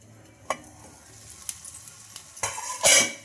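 Puffed rice batter with sesame fries in an oiled pan, giving a quiet, soft sizzle with a few sharp clinks before a louder crackling burst near the end.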